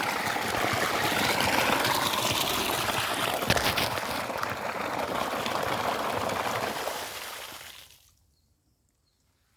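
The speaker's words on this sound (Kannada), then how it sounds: "ಮನೆ ಹತ್ರ ದನದ ಕೊಟ್ಟಿಗೆ ನೀರು ಬಿಟ್ಕೊಂಡಿದ್ದೀನಿ" Water runs steadily from a farm tap or hose into a cattle shed near a house in rural Karnataka, a broad continuous rushing flow that stops abruptly near the end, leaving silence.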